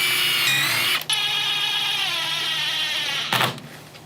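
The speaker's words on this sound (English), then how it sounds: "you just wanna make sure that you drill that in there with a pre-drill" A power drill whirs steadily while pre-drilling a hole in deck material, the sustained high whine running for several seconds, briefly interrupted near the start and ending with a short burst as the bit breaks through.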